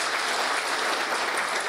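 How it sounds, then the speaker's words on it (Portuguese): Steady, dense applause from an audience at a formal ceremony honouring the Espírito Santo Military Police, filling the whole stretch evenly and loudly with no voices over it. "merece uma salva de palmas"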